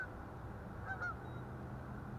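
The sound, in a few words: geese honking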